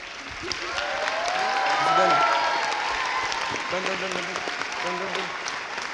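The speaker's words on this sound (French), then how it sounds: "Bravo à tous, applaudissons-les bien fort" A theatre audience applauds loudly after a musical comedy show, dense steady clapping swelling and then easing, with voices and a few shouted calls mixed in beneath.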